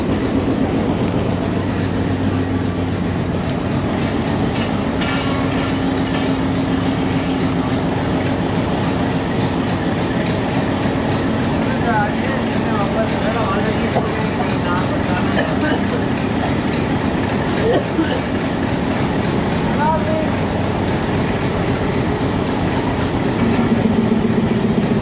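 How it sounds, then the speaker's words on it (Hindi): Rawalpindi Passenger train pulling out of Rawalpindi railway station, a steady low rumble with clickety-clack wheel rhythm and some squealing, continuous and close throughout, with faint voices underneath. "फाइनली डिपार्चर हो गया है रावलपिंडी रेलवे स्टेशन से"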